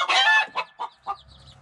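Hens clucking close by in a hen house, a burst of squawking followed by a few short, separate clucks, with a low rumble underneath.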